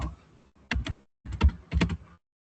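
Keystrokes on a computer keyboard while editing text in the vim editor on Linux, a quick burst of close, crisp taps in short clusters separated by brief pauses.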